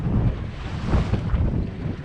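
A 16-foot boat on a lake coasts with its motor running low, a steady low rumble mixed with wind buffeting the microphone and the wash of waves against the hull.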